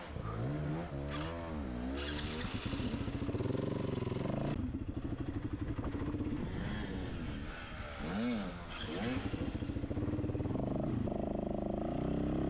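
A dirt bike engine works hard through a hard enduro race course, revving and bogging loudly and close throughout, with rapid throttle changes and pitch swings.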